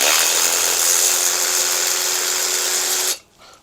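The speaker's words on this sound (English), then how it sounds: "run a thread chaser down all of these passages" A thread chaser cleans gunky head bolt threads in the cases of a 1972 Harley-Davidson XLCH Ironhead Sportster: a steady, loud, whirring power-tool drone that runs for about three seconds, then cuts off abruptly.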